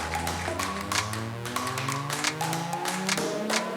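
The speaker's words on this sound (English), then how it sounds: "Can we have a round of applause, please?" Small audience at a podcast event applauding, a thin scatter of individual claps in an uneven rhythm, fairly close.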